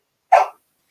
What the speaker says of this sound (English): That is the sound of my dog asked to go out